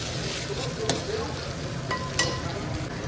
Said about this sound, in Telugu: అల్లం ఎల్లిగడ్డ పేస్ట్ వేయాలన్నమాట వేసి కొంచెం ఒక 1 మినిట్ ఇట్లా వేయించుకోవాలి